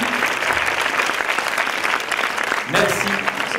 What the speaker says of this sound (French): Un tel applaudissement pour Johan Tanguy.